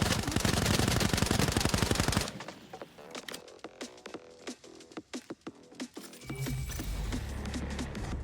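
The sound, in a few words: full-auto gunfire mag dump in Arena Breakout Infinite video game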